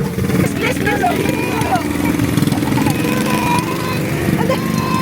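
A motorcycle engine runs steadily at a busy market, a close mid-pitched drone that continues throughout while people talk over it.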